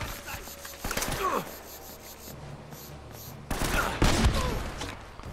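Gunfire from Uncharted: Drake's Fortune cracks in two short clusters of shots over rough, scraping game ambience, moderately loud and close.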